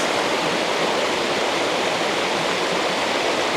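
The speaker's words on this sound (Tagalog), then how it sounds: "We found the falls." A waterfall in Alberta roars as a steady, dense rush of falling water, loud and close, with no break and no voices over it.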